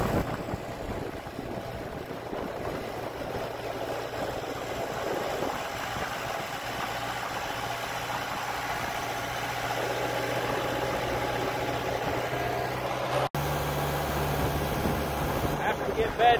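Farm tractor engine idling near barns, a steady low rumble with a constant hum running throughout, fairly close, with a brief cut near the end.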